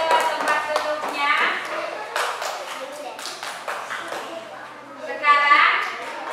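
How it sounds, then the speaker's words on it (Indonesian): Classroom applause for a classmate who has just performed, with many children clapping in a dense patter that swells near the end, while young voices chatter underneath. "kita berikan aplaus untuk teman yang sudah tampil"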